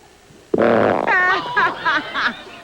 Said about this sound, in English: Now, right now, he farts